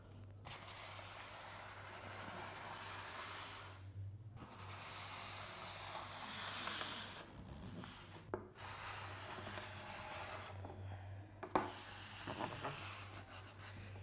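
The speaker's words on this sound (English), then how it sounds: "So you've just scraped off all that excess wax with your scraper." A plastic scraper pulls excess wax off a snowboard base in long strokes from tip to tail, giving faint, steady rasping passes with brief pauses between them and a low background hum.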